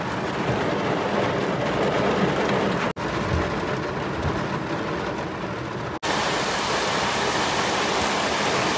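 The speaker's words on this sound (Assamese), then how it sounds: "কি ডাঙৰ বৰষুণ মাৰিছে চাওক" A sudden heavy downpour of big raindrops in Guwahati makes a dense, constant roaring hiss that fills the whole stretch, loud and close, with two brief breaks.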